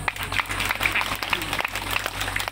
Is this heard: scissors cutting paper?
no